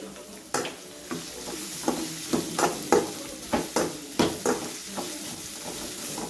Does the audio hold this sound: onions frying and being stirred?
yes